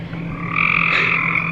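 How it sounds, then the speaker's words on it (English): Frogs croak at night close by outdoors at a building site, a steady dense chorus of overlapping calls that swells and holds loud, with no talking. "listen to all the frogs."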